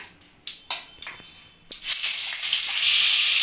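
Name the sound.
prawns frying in oil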